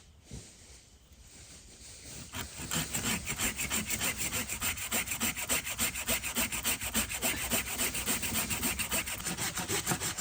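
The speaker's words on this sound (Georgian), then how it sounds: "იმედია ეს ხერხი ხმელზე გაკაჩავს." A hand saw cuts through dry, seasoned wood while a forest shelter is built from natural materials. After a quiet start, steady back-and-forth strokes set in and repeat evenly, close and loud, with no talking.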